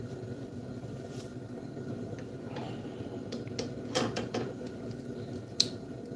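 A ratchet wrench torquing down a bolt during truck dually modifications, giving close mechanical clicking and creaking strokes with a few sharper metallic ticks, no voices.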